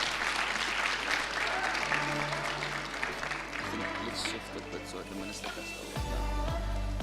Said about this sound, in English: Can we please give them a round of applause as they come on stage?